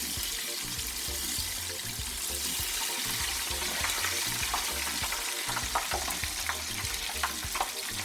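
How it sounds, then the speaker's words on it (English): Flour-coated fish fries in hot oil with a dense, constant sizzle and crackle, close and steady throughout, with light scattered pops and spatters and no talking. "So just let it keep frying"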